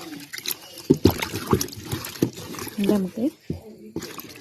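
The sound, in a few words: washing an ingredient in water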